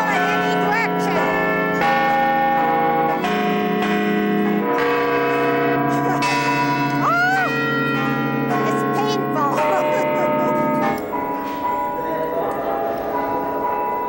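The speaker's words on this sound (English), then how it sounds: "15 bells in the clock tower of City Hall, hit on a keyboard 12 stories below on holidays and special occasions" Fifteen City Hall clock tower bells, struck from a keyboard twelve stories below, ring out a loud, sustained melody of overlapping tolls that blend into a continuous wash of pealing tones.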